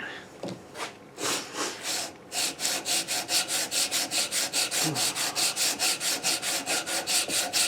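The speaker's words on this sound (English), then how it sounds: "Sand it, sand it." A wooden pinewood derby car is sanded by hand in long strokes, an even run of rasping passes that speeds into a fast steady rhythm, close and loud.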